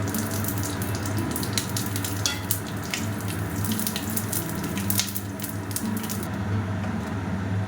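Whole spices, including cloves and small pieces of cinnamon, frying in hot oil give a steady, dense hiss with scattered crackles and pops that continue throughout.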